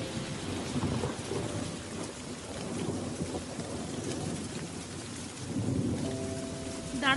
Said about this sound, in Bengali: এইরকম রং করে বৃষ্টি শুরু।